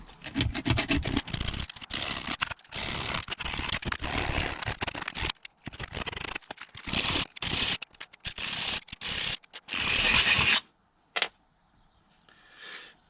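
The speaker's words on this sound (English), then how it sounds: "I've got a little bit of emery. I'm just going to clean this up with." Emery cloth rubbed by hand over the cut wire end of a VW T3/T25 body-to-gearbox earth cable, heard as close, repeated scratchy scrubbing strokes in irregular bursts, then a few brief rubs before quiet.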